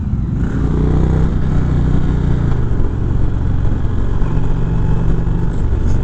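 A 2019 Indian Springfield Dark Horse motorcycle engine drones steadily while riding, with wind rush and a slight shift in pitch as it cruises along.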